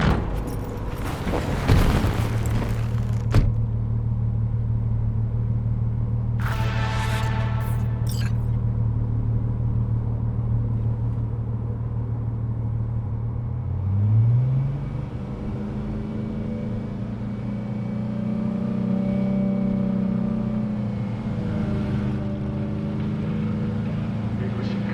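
Steady low engine drone of a car driven through a city in Cyberpunk 2077, holding one pitch before shifting upward, layered under game music and ambient city noise, with a loud boom near the start.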